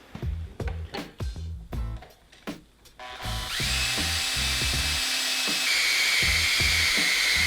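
A run of sharp knocks and taps gives way to a power drill boring into a Honda Grom handlebar, which grows into a loud, continuous, close-up whine that runs to the end.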